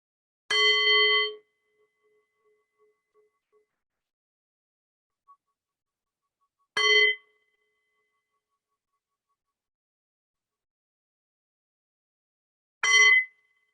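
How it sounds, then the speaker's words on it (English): A meditation bell rings three times, each a clear, bright strike that rings out alone and fades over several seconds of silence between. "we'll begin with the sound of 3 bells."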